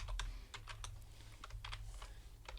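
Rapid keystrokes on a computer keyboard as a terminal command is typed, a quiet, close run of light clicks with brief pauses and no voices.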